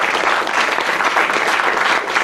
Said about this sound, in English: If you can give them one more big round of applause